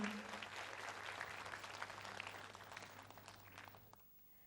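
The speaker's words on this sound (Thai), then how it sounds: "ขอเสียงปรบมือดังๆ ให้กับ 5 ผลงานสุดท้ายค่ะ" An audience at the True Innovation Awards 2011 ceremony applauds the five finalist projects with sustained clapping, then fades out near the end.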